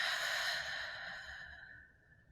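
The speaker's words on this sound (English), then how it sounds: "and breathing out" A single long, soft exhalation during a guided calming exercise, a breathy sigh that slowly fades away, heard alone without talk.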